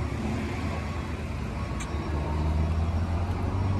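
Steady low rumble of a nearby truck idling loudly, continuous and even throughout, with no talk.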